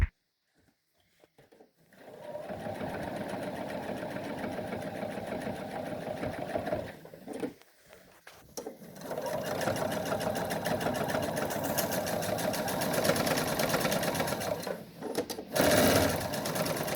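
A sewing machine stitches a fabric mask cover in a fast, steady whirring hum, close up, stopping briefly twice before speeding up again.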